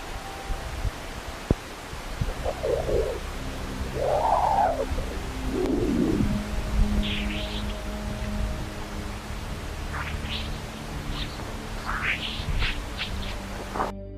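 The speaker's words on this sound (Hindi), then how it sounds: "यह चहचहाने जैसे आवाज डिस्पर्सिव वेव्स की वजह से आती है" Recorded solar wind plasma dispersive waves converted to sound, a hissing noise bed with several rising and falling chirping sweeps, a few lower swoops early and a cluster of quick high chirps later, faint and spacey.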